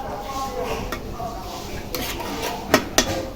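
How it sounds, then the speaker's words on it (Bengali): Mola fish cooks in a pot while metal utensils clink and scrape against it, several sharp knocks near the end over a low kitchen background, with faint voices. "তো এই যে গুঁড়া মাছ রান্না হচ্ছে এখানে"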